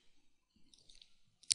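A computer mouse double-clicks while editing a colour swatch, giving a quiet, sharp pair of clicks near the end, preceded by faint clicking and light desk noise.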